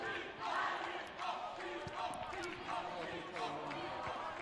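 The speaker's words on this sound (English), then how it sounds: "We're hearing a lot of cheering." Crowd cheering and shouting at a quidditch match, a distant, diffuse roar with scattered bursts of voices and thuds, heard faintly under the general noise of the event.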